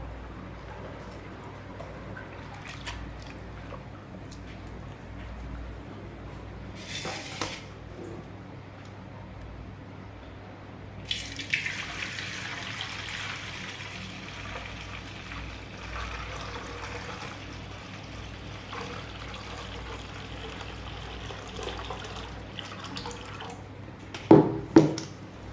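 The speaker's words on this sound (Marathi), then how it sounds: "पहिलं पाणी आपण यामध्ये आता बदललेलं आहे. आता दुसरं पाणी टाकायचं आहे." Fresh water poured over wheat grains soaking in a home kitchen for kurdai: a quiet stretch, then a broad rushing pour that builds midway and continues, ending with a couple of louder knocks close by.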